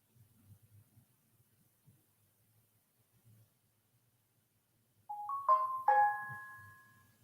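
A phone ringtone chimes in a short, bright melodic burst of a few tones near the end, following a long stretch of near-silence with a faint low murmur.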